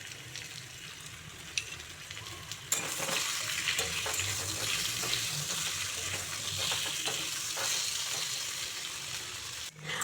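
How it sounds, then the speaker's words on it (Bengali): Potatoes fry with salt and turmeric in a pan, giving a steady, fairly loud sizzle that swells after a few seconds, with occasional stirring scrapes. "বেশি ভাজবো না, হালকা ভাজবো।"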